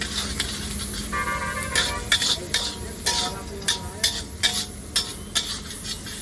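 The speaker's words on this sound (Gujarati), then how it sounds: "હવે તેને ધીરે ધીરે હલાવી લઈશું." Tomatoes stirred and sautéed in a pan, with soft scraping and clinking of a utensil against the pan over a low sizzle, a run of short, evenly repeated strokes near the end.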